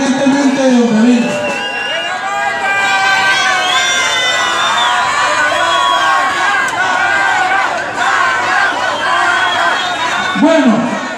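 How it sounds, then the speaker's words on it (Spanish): A crowd at a New Year's Eve event in Oporapa, Huila cheers a papayera band, a loud, dense mix of shouting, whoops and excited voices, including children, that runs continuously for about eleven seconds. "Un aplauso para esta banda papayera independientemente de donde viene."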